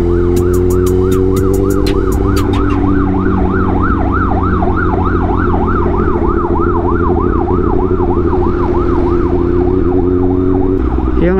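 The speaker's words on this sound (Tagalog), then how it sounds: "Yung ambulansya, pinagbigyan muna natin." Loud ambulance siren wailing nearby in continuous rising and falling sweeps, with a few short yelp bursts at the start, passing over steady traffic rumble.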